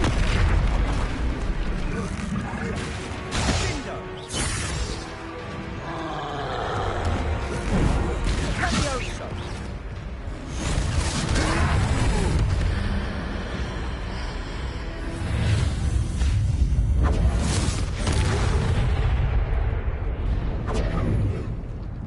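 Confringo spell explosions hit a troll in the Hogwarts Legacy video game, a dense run of loud booms and blasts layered over battle noise and game sound for the whole stretch.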